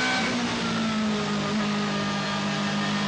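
BMW M3 GTR race car accelerating hard on the Nürburgring, a loud, steady engine roar held close and continuous from in-car, with strong harmonic drone throughout.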